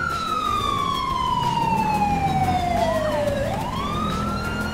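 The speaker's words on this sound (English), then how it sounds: "I put the new American bike siren pack on it." A police motorcycle siren in GTA V, fitted with an American bike siren pack, wails loud and close in a long steady falling tone that sweeps back up near the end, over constant road and engine noise.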